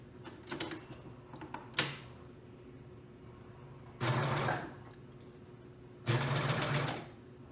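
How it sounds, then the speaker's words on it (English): A sewing machine stitches a sleeve into a garment in two steady bursts of close, even running, each about a second or two long, with light handling clatter and a sharp click before the first run. "So let's go ahead and sew this."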